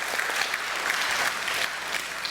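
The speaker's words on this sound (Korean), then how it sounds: "우리 이분들 지난 2주간 너무 고생하셨는데 우리 박수로 한번 격려하도록 하겠습니다" A church congregation applauds during a Sunday service, steady dense clapping throughout to welcome and encourage baptism candidates, with no talk over it.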